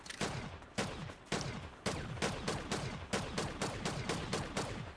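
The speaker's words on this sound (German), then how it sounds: "Und schießt du auf etwas Bestimmtes oder schießt du einfach ein bisschen?" Rapid bursts of gunfire from the video game Fortnite crack out in a rhythmic string of about a dozen sharp, loud shots with short echoing tails and no talking.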